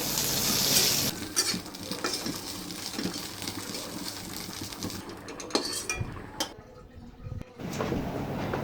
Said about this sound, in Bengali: তৈরি করা শুটকিগুলো একটু ভেজে নেব